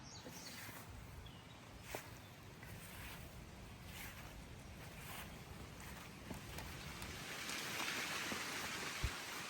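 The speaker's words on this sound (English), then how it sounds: "listen to that wind" Wind blowing outdoors in a garden, a faint steady rush with gusts building toward the end and a few scattered light knocks, no talking.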